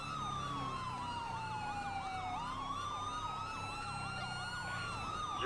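An emergency vehicle siren wails and yelps continuously during a police patrol, loud and close, sweeping up and down in pitch alone with no talk.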